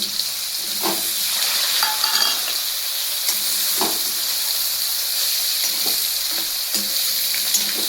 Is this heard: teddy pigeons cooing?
no